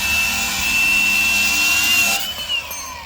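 Power tool trimming metal fuel tank brackets on a car, a loud steady high whine that runs for about two seconds before winding down and stopping.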